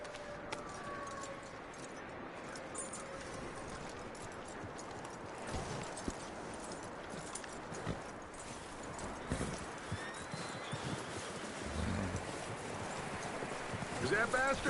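Horse hooves clip-clop steadily through a Red Dead Redemption 2 video game scene, a soft continuous clatter under low ambient noise.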